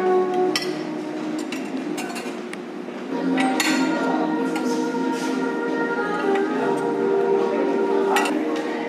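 Plates and dishes clinking at a buffet, with scattered sharp ceramic and cutlery clinks over a steady murmur of background chatter and a faint hum, fairly close and repeated irregularly.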